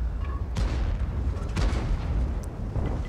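A Conqueror Gun Carriage artillery piece fires in World of Tanks: a sharp, booming report followed by a second blast a second later, with rumbling battlefield ambience between them.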